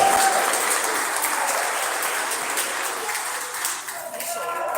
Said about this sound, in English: Can we get a round of applause for our referees today?